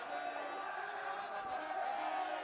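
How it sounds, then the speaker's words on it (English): Crowd cheering at a men's college ultimate frisbee championship semifinal between Pittsburgh and Minnesota, a steady distant roar of voices with occasional brighter whoops rising and falling over the 2.5 seconds. "Looks like the crowd's having fun."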